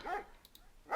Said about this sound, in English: we already hear the dog barking